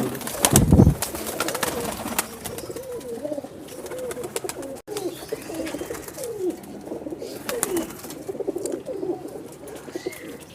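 High-flying pigeons in a breeding loft coo repeatedly in overlapping, burbling calls at moderate distance, with a sharp thump near the start and a few clatters of movement.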